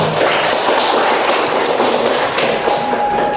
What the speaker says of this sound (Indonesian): silakan dulu beri aplaus kepada teman-teman kalian